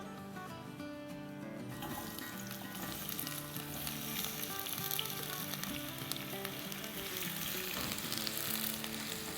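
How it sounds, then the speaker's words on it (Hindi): Onion with green and red bell pepper hitting hot oil, a sizzle that flares up after a quieter start and then holds as a steady, dense frying hiss with light crackles, close and unbroken. "वेजिटेबल्स को हम जो है थोड़ा सा हल्का सा फ्राई कर लेंगे"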